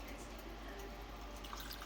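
Rib marinade poured into a cooking pan, a faint steady liquid trickle and dripping heard up close, quiet and alone.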